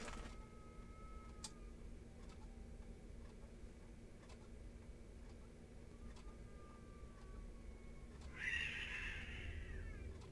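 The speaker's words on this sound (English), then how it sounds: "There's cats fighting in my gangway." Cats fight outside in a gangway, a faint, drawn-out caterwaul rising near the end over a quiet room hum with light ticking.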